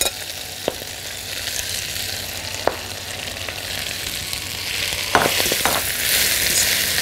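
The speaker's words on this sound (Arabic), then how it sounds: "فهنحط السبانخ، هنلاقي السبانخ بتطلع صوت كده" Spinach sautés in a hot pan, a steady, moderately loud sizzle with occasional sharp crackles and pops, growing slightly stronger toward the end, with no talking.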